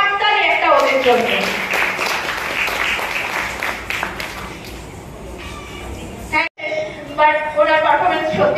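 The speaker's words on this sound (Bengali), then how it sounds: "জোরে হাততালি একটা ওদের জন্য।" An audience applauds after a classical dance performance at a programme in Kolkata, with dense, steady clapping for several seconds, followed by a person speaking over a microphone.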